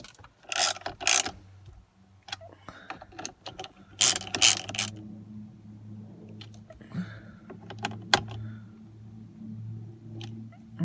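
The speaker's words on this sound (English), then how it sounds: "Now we just need to put our screws back in up here and here." Screws being driven back into a Nissan or Infiniti steering wheel during a clock spring repair, giving a few separate bursts of ratcheting clicks with quiet gaps and a faint low hum between them.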